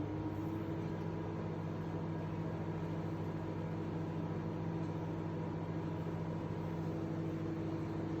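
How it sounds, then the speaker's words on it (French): A microwave oven runs while it softens milk and butter, giving a steady, even hum with a faint tonal whine that never changes and has no talk over it. "Donc en moyenne 15 secondes au micro-ondes, c'est suffisant."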